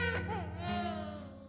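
A baby cries in a Hindi TV serial scene, one short, close, wavering wail lasting about a second and a half, heard alone.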